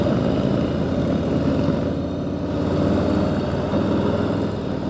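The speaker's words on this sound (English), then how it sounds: "This bike it lugs real nice, chugs along good." A 2018 Harley-Davidson Street Bob, roughly 650 pounds, lugging along in second gear, giving a dense, steady low engine chug heard close and loud throughout, with no talk.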